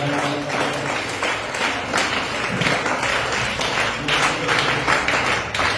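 Congregation at a church service clapping and cheering for Jesus, a dense, steady wash of applause with scattered voices, sustained and fairly loud throughout.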